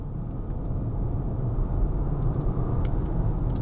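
A Bentley Flying Spur's W12 engine accelerates, heard as a steady low, even rumble and road drone without distinct revs or gear changes.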